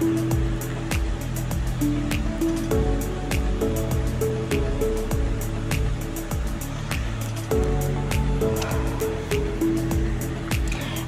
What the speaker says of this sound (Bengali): এখানে আমি একটু লাল লাল করে ভেজে নেব